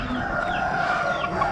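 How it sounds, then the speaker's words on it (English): A rooster crows once in a drawn-out call amid the steady din of an Amish animal auction, where other fowl are faintly audible in the background. "Big boy rooster."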